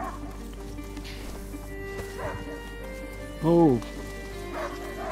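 A hunting dog in the video game A Plague Tale gives one short, sharp bark amid rainy outdoor game ambience, while someone speaks briefly nearby.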